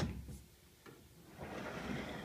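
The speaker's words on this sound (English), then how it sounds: "these are the doors. Let me just close it so you can see." The doors of a small home craft room swing shut: a soft click, then a brief sliding, rustling noise and a faint room hush, with no talking.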